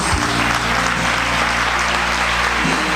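An audience in a church service claps steadily for about three seconds, the loud, even applause running over a low constant hum.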